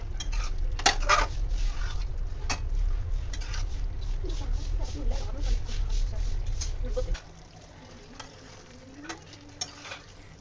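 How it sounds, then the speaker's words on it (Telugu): A spoon stirs kadai paneer curry with fresh coriander in a pan on high flame, with repeated close metallic scrapes and clinks over a frying hiss. The hiss drops away partway through, leaving only a few faint taps. "కొత్తిమీర యాడ్ చేసుకున్న తర్వాత ఒకసారి బాగా కలుపుకోండి."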